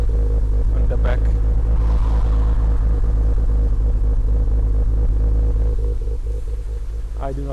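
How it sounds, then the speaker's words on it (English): A BMW E36 M3 engine at idle with an odd noise: a steady, loud low rumble close by, even and continuous for the whole stretch, with faint light clatter on top and no talk. "There's a bit of funky noise on idle, you can hear it on the back."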